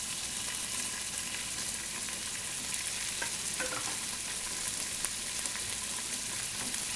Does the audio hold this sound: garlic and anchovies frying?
yes